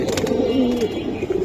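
Large pigeons, giriraj and homer types kept for sale, coo in a steady low murmur throughout, close by and fairly loud, with some soft background chatter.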